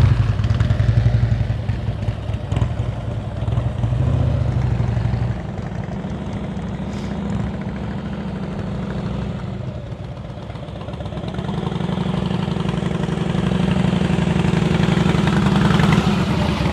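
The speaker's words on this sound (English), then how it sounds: "This time I hear your throttle the whole time. That's why the motorcycle is so much more steady." A motorcycle engine held on steady throttle during advanced slow-speed riding practice, a continuous low drone that stays loud and close with slight rises and dips in pitch.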